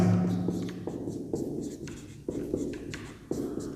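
A pen writing a maths solution by hand on paper, with continuous close scratching strokes broken by short pauses as new lines begin, and no talking.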